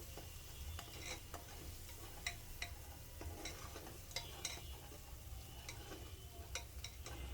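A spice mix of garlic paste, dried chili powder and turmeric is stirred in a pan, giving faint, soft scraping strokes at an irregular rhythm over a low, steady background hum.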